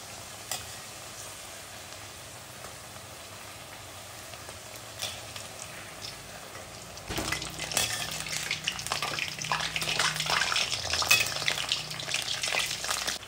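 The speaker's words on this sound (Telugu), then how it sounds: "ఒకవైపు వేగినాయి, రెండో వైపు తిప్పుకొని మంచిగా ఎర్రగా కాల్చుకోవాలి" Bottle gourd patties fry in hot oil in a pan, a steady sizzle that swells suddenly halfway through and stays loud and crackling, with no voices.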